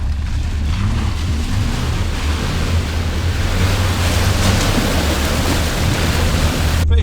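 A 4WD pushes through a muddy bog hole, churning water in a steady, loud rush of splashing and surf-like wash with engine rumble beneath, continuous for several seconds.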